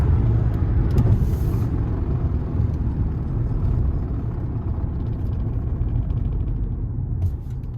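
Interior rumble of a car accelerating up to road speed for a brake test, a loud, steady low drone of engine and road noise with faint rattles and no talk.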